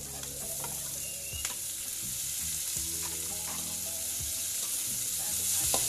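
Dried squid being stirred while it fries in a pan with green chilies, a continuous close sizzle with occasional scraping stir strokes and no voices.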